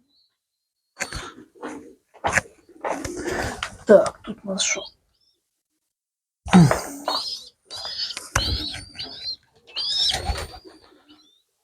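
Pigeons, including a young squab handled in a village loft, give soft coos and thin calls between a man's speech, close and intermittent.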